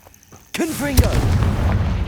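A Confringo blasting spell goes off in the Hogwarts Legacy video game: a sharp burst and boom under a shouted voice, followed by a sustained low rumbling roar that fills the rest of the moment.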